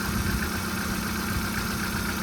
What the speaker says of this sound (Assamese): গাড়ী ষ্টাৰ্টতে আছে